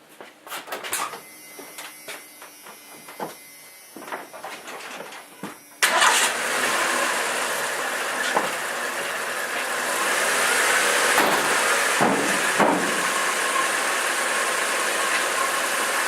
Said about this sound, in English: So it starts right up. I got it to idle at around 600 RPMs.